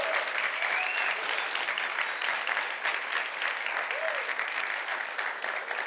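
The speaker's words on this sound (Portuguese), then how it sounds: "Uma salva de palmas para o pessoal da tecnologia que entregou isso aqui em tempo recorde" Steady, dense applause from an event audience cheering a technology team at a product launch, loud and sustained throughout with no break.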